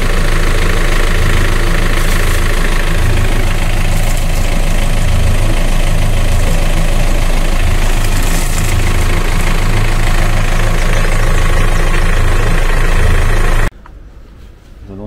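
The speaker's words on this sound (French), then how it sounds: "Rinçage des moteurs." Boat outboard engines run steadily while being flushed during dry winter storage, a loud continuous low rumble with a watery wash over it for most of the stretch before cutting off abruptly near the end.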